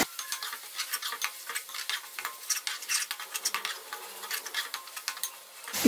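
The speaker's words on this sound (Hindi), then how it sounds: "इसे हम 1 से 2 मिनट भूनेंगे।" Fenugreek leaves fry in a spice masala for a mushroom and vegetable curry, giving a steady close sizzle broken by frequent scrapes and clinks of a spoon stirring against the pan, with no talking.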